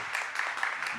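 Audience applause rings out at the Zableskaj 2023 song contest final, a brief dense patter of many clapping hands filling the hall.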